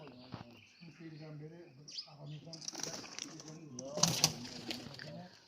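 Pigeons flutter and coo in a pomegranate orchard in Uzbekistan, with soft wingbeats and chirps close by while someone talks over them.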